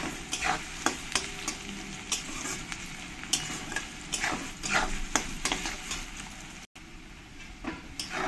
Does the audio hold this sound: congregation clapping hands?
no